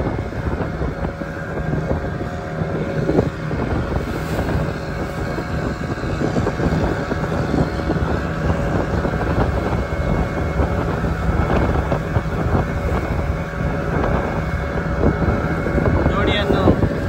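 A fishing boat motor running at sea off Malpe, a constant loud engine drone mixed with heavy wind buffeting the microphone, continuous throughout with no pauses.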